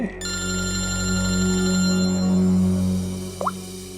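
An electronic telephone ring sounds in a TV crime drama scene as a steady, loud, sustained tone lasting a few seconds before cutting off, with no voices over it.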